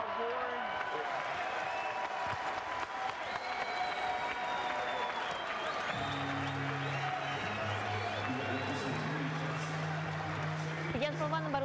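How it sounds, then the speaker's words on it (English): A boxing arena crowd at a live fight roars and applauds continuously in a dense, steady wash of noise, with a commentator's voice talking over it and a sustained tonal hum joining partway through. "You can hear the crowd roaring."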